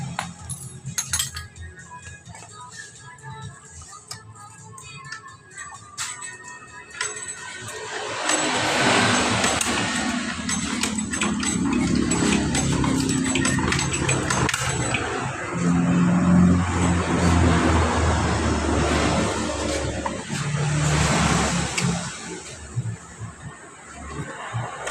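Yamaha Mio Sporty scooter with a hard-starting misfire and lost compression: scattered quiet clicks and handling noises first, then the engine catches and runs loudly and unevenly up close, with rising revs.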